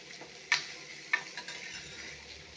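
Bitter gourd frying in a pan for kakarakaya pulusu, a quiet continuous sizzle broken by a few sharp stirring clinks and scrapes, with no talking.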